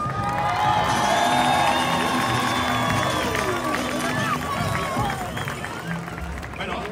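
A festival crowd in San Miguel de Allende cheers and applauds loudly, with shouts and whistle-like calls rising over a dense wash of clapping and voices for about seven seconds.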